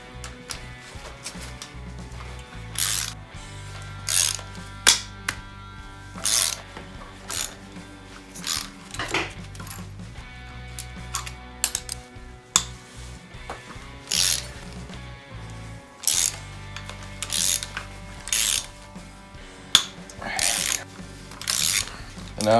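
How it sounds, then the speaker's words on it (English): A ratchet wrench loosens bolts on a Chevy 305 engine in a workshop, with repeated bursts of close clicking between scrapes and handling noises. "And now I'm going to go through and remove the bolts"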